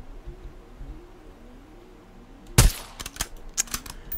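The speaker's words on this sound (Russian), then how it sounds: "Блин, это серьезно в камень выстрелил?" Gunfire in the video game Generation Zero: a sharp loud shot cracks out after a quiet stretch, followed by a few quicker, fainter shots in a short irregular burst.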